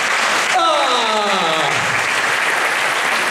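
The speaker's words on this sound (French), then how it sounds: "Je demande de l'applaudir, s'il vous plaît." Audience applause at a beauty pageant, steady and full throughout, with a rising whistle-like tone briefly sliding over it early on.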